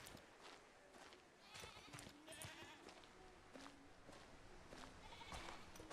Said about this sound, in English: Some more goats in the distance.